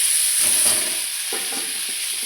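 Cut beans, carrot, cauliflower and potato frying in a pan with bay leaf, whole cumin, garam masala and grated ginger for a sago pulao make a loud, continuous hiss with soft stirring rustles beneath.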